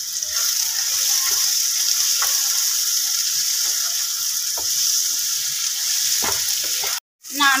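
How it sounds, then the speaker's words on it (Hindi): Dhaba-style masala of tomatoes, chilli powder and salt fries in a pan for anda ghotala, giving a loud, continuous hiss with occasional stirring clinks, then cutting off briefly before resuming. "अब हम मसाले को अच्छी तरह से भूनेंगे।"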